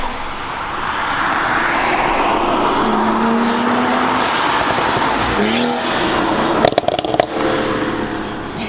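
A BMW 135i engine roars loudly and steadily as it accelerates past, with a rising tone and a few sharp pops near the end.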